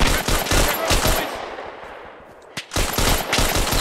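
Automatic and rifle gunfire in the World War II shooter Hell Let Loose, loud rapid bursts of close shots, a brief lull and a single sharp report, then more sustained firing.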